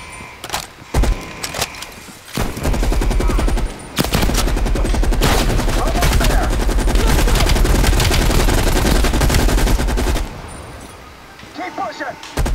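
Loud, sustained automatic gunfire in the Call of Duty Black Ops Cold War campaign, dense bursts running for several seconds with brief pauses and a quieter tail, with some talk mixed in.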